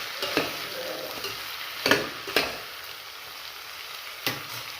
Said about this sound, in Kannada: ನೋಡಿ ಪಡವಲಕಾಯಿ ಉದ್ದಿನಬೇಳೆ ಹಾಕಿ ಚೆನ್ನಾಗಿ ಹುರಿದ ಮೇಲೆ ನೋಡಿ ಕಾಯೆಲ್ಲ ಚೆನ್ನಾಗಿ ಹುರಿದಿದ್ದೀನಿ.